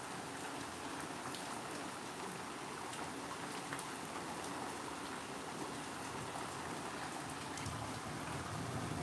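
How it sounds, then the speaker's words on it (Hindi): Steady downpour of heavy rain, a continuous broadband wash of falling drops that stays level and close throughout, with no one talking. "इतनी बारिश हो रही है इधर, देखो तो ज़रा।"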